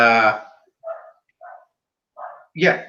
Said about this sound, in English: sorry, my dog is like going crazy right now